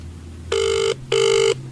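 A telephone rings twice in loud, bright electronic bursts of about half a second each, with a short gap between them, clear and alone with no talking.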